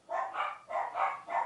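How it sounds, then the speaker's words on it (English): Dachshunds bark indoors in a quick run of five sharp barks in two bursts, moderately close and fairly loud, with no voices over them. "I've got dachshunds and they just bark a lot."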